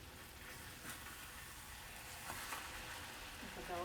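Potatoes just flipped in a pan sizzle quietly for smothered potatoes, a faint, steady frying hiss with a few soft stirring sounds close by.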